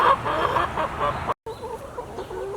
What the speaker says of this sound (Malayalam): നമ്മുടെ കോഴികളൊക്കെ ഇവിടെ ഉണ്ട് കേട്ടോ